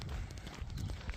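A big horse that has wandered out of a field clops along outdoors, its hooves making soft, uneven knocks against a noisy, rumbling background.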